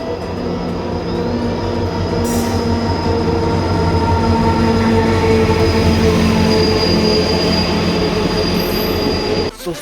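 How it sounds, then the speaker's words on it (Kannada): A passenger train bound for Mandya rolls along from inside a carriage: a loud, continuous rumble with steady wheel and rail drone, a faint high squeal, and a brief clunk at the very end. "ಸೊ ಈಗ ಟ್ರೈನ್ ಹೋಯ್ತದೆ ಮಂಡ್ಯಕ್ಕೆ."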